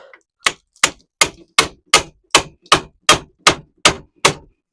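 Ten evenly spaced metallic whacks ring out one after another as a hammer strikes a pickle fork wedged against a golf cart ball joint, each hit sharp, close and loud with a quick decay and silence in between.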